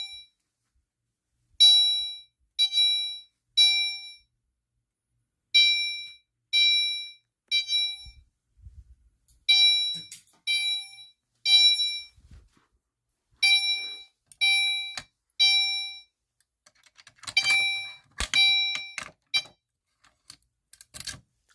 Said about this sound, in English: I pulled the fire alarm, and that one activates the horn strobe